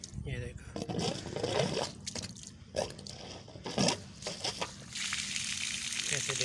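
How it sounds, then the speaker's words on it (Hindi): Water gushing from a borewell pipe driven by a newly fitted submersible motor, a close, continuous splashing rush with people talking over it. "कैसे पानी आता है"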